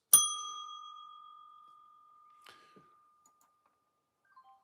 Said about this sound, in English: I'm ringing the bell and I'm selling, folks.